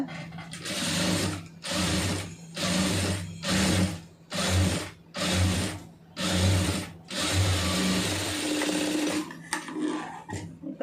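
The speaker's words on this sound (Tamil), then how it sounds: "அப்படியே திருப்பி விட்டு ஒரு தையல் அதிலே போட்டுருங்க" Domestic sewing machine stitching a puff sleeve in bursts, with eight or so loud mechanical runs of about a second each separated by brief pauses, close and without any talk.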